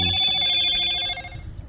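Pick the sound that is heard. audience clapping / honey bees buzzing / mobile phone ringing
mobile phone ringing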